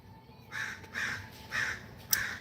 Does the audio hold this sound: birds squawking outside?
yes